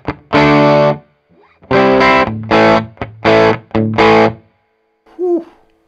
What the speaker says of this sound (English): It's a bit of reverb. It's almost sending the hot rod into breakup